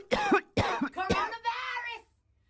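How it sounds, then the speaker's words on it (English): Three loud, harsh coughs in quick succession burst out up close, followed by a rasping throat-clearing tail before silence. "walk right past her and bust a loud nasty cough."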